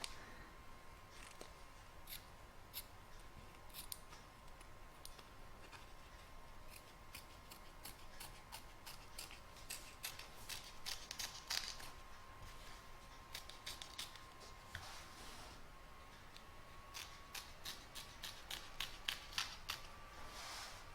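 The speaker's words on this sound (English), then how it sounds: "Now we're going to trim up the excess fabric from both the back and front" Scissors snip repeatedly through excess fabric on a canning jar cover, a long run of quiet, crisp cuts at an uneven pace with no talking.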